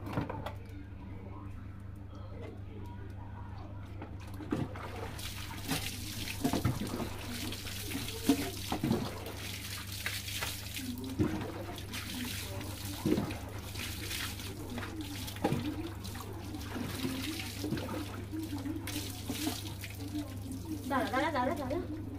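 Water runs steadily from a tap for a bath in a hot household kitchen, a constant gushing under a low hum, with occasional clatter and splashes.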